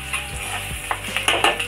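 Onions frying in a pan until browned for a Marathi dry shrimp curry, with a soft steady sizzle and a few scraping stirs and utensil knocks against the pan, close and fairly quiet.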